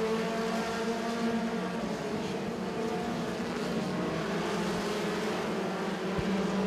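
Race cars at the Duck River Raceway Park pure pony feature drone steadily around the speedway, a continuous roar of multiple engines at moderate distance with no voices over it.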